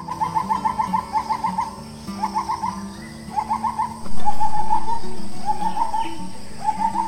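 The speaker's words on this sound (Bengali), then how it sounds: "কিছুক্ষণ চুপ করে বসে থাকলে না দূর থেকে বিভিন্ন প্রকার সব পাখিদের ডাক শুনতে পাবেন" Birds call repeatedly in short rhythmic phrases at a forest park near a river jetty, moderately close, with a low steady hum beneath and a sudden louder noise burst midway.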